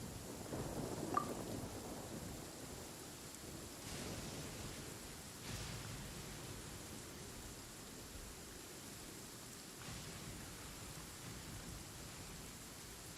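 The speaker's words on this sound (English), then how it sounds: "it certainly has gotten dark, though whether that's due to the rain or the night encroaching, I can't be entirely certain." Steady rain hisses continuously through a dark scene in the Genshin Impact video game, with a few soft, distant rumbles and muffled thuds under the downpour and no voices.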